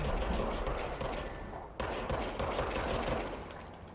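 Rapid, continuous video-game gunfire rattles densely and loudly for several seconds, with a brief break midway before the burst resumes.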